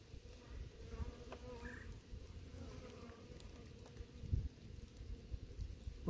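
Honey bees from a caught swarm buzz steadily during a hive inspection, a continuous close drone with occasional louder passes of individual bees near the listener.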